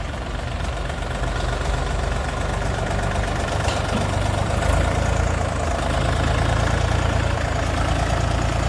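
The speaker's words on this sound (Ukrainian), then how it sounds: "Трактор з ведучим переднім мостом, трьохциліндровий, всім відомий мотор КМ385 БТ" A Dongfeng mini tractor's three-cylinder KM385BT engine idles steadily and close by, a low chugging rumble with a constant mechanical knock and no voices.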